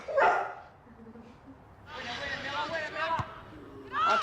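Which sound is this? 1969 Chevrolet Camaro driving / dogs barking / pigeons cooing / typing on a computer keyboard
dogs barking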